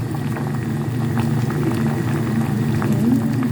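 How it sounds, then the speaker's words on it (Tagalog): A pot of food, cooked with sweet potato tops, simmers and bubbles steadily on the stove, a close, continuous burbling boil with faint crackles over a low rumble. "Konting kulo-kulo lang yan."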